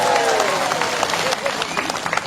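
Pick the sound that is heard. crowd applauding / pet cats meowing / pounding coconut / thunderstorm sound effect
crowd applauding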